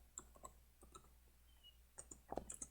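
Keys clicking on a computer keyboard while code is typed in an editor, a few scattered taps followed by a quicker close cluster of clicks near the end, faint and alone.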